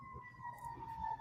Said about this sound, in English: all you hear is fire sirens now